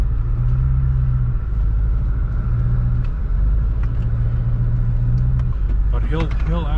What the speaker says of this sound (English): This grader going by right now.